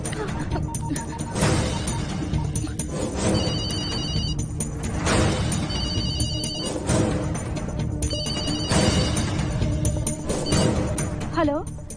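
A telephone bell rings in repeated bursts, loud and close, over background music and dramatic sound effects, with voices speaking at the end.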